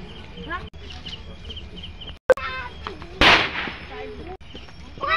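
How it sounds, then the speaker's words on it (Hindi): A sharp chili firecracker bang goes off during Diwali, followed moments later by a louder crackling burst, with people talking and shouting around it. "ये मिर्चा पटाखा।"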